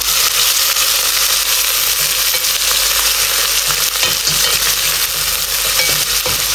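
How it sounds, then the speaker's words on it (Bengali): Onions frying with whole garam masala for a chicken and potato curry make a loud, constant sizzle with stirring scrapes throughout, close up and without talk. "পেঁয়াজ দিয়া আমি বালা করে লাড়াচাড়া করবো।"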